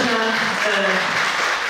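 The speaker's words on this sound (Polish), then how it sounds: "Wielkie brawa." Applause from the audience at a Mother's Day concert in Miechów, a short burst of steady clapping with some voices mixed in.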